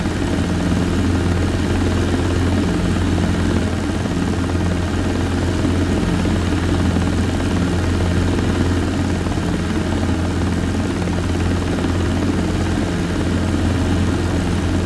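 Steady, loud rotor thump and engine drone from a Robinson R22 helicopter in flight, continuous throughout with no pauses or talk.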